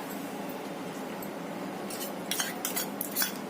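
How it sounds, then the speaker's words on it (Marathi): Low steady background, then a spoon clinking and scraping against a pot in several short bursts as a thick rice paste is stirred into milk for rice kheer. "ही पेस्ट घातल्यावर लगेच आपल्याला ढवळत राहायचंय"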